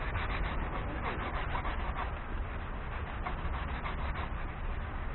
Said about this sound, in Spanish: intentando no dejar cuadrado ni hacer fuerza excesiva con la esponja